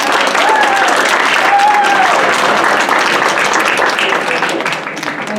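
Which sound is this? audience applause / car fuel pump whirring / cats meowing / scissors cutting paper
audience applause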